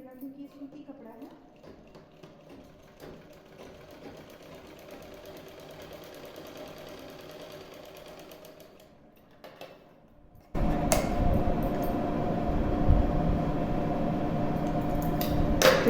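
A sewing machine stitches folded-over cotton cloth, first as a quiet steady whir and then as a much louder, rough, continuous rattle in the second half, with no talk over it.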